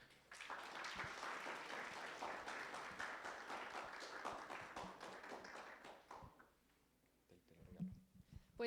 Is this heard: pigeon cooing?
no